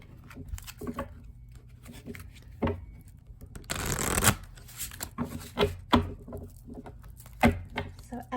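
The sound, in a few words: shuffling a thick deck of cards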